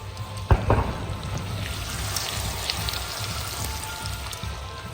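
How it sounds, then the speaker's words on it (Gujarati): Chili peppers frying in oil for Patan-style pakoda, a dense continuous sizzle and crackle heard up close, with a single sharp knock early on and no talking. "મરચો તળવા મૂકી દીધા"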